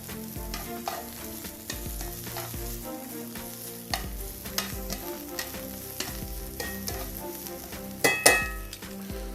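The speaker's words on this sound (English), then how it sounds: "Nice little sizzle there." Steady frying sizzle of bell peppers in a pan, with occasional stirring scrapes and a sharp metallic clink near the end.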